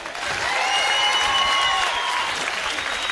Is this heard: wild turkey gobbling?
no